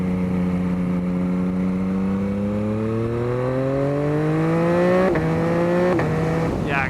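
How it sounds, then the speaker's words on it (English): A 2021 Yamaha MT-09 motorcycle accelerating hard, its engine note climbing steadily in pitch, then dropping briefly at two quick gear shifts, loud and close throughout. "it likes accelerating into the higher RPM ranges"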